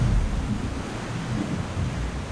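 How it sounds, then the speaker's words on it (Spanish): Waterfall ambience from a 2010 Unity webplayer medieval walking game: a continuous rushing, surf-like wash of falling water with a low rumble, steady and unbroken throughout. "te acercas a la cascada"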